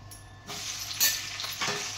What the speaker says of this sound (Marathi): तेल तापलेलं आहे तुम्हाला दिसतं. आता हिरव्या मिरच्या टाकल्या.